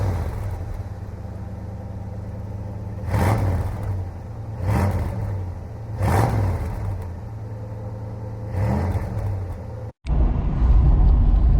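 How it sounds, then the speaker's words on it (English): A 1966 Ford Mustang coupe with a V8 and automatic gearbox burbles steadily while driving on country roads in the South Downs, its low rumble swelling in several rhythmic surges before a brief cut and a louder close finish. "Driving a Mustang, just hearing that burble behind me"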